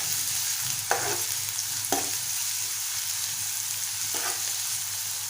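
Curry leaves and green chilies sauté in a pan: a close, even frying hiss runs throughout, with a few separate stirring scrapes of a spoon against the pan and no speech.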